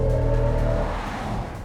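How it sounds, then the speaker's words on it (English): A BMW i5 Touring electric estate plays its synthetic drive sound composed by Hans Zimmer, a smooth, sustained low hum with a steady tonal layer that fades slightly as the car moves, heard alone. "Now those noises are actually composed by Hans Zimmer"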